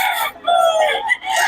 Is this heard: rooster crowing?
yes